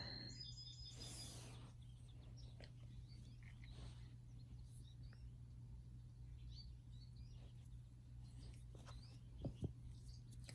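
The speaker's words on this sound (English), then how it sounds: "I think that's the tufted titmouse" Faint, scattered tufted titmouse chirps and whistled calls come and go over a steady low hum, with no talking.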